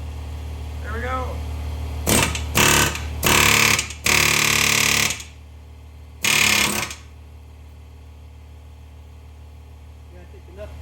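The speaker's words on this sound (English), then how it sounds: "It's a Harbor Freight. It gets after it." A Harbor Freight air hammer fires in several loud, close bursts of rapid pounding, two quick ones then two longer runs and a final short burst, during work on a vehicle's steering and suspension, with quiet shop noise between.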